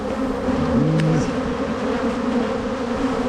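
Steady, dense buzzing of a bee swarm during a swarm retrieval fills the clip, a continuous low hum with no voices.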